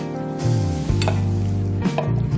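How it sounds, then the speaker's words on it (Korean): Marinated japchae meat stir-frying in hot oil in a pan, a continuous loud sizzle with scraping stirs and faint clinks of a utensil, and no talking. "아까 재워둔 잡채용 고기를 먼저 볶아주세요"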